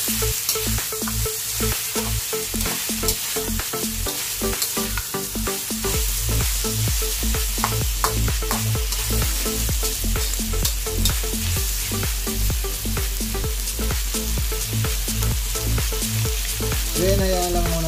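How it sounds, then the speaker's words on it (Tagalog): Tofu and bean sprouts sauté in a hot pan for Filipino ginisang togue, a dense continuous sizzle with rhythmic stirring and spatula scrapes throughout, close and steady, with no one speaking over it. "So yan, gigisa lang natin yung pang-maigi."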